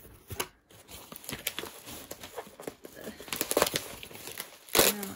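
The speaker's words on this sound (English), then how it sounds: "I ripped the sticker." A sticker on an album is ripped during unboxing, heard as close crinkling and tearing of paper and plastic in short bursts, with a sharper, louder rip near the end.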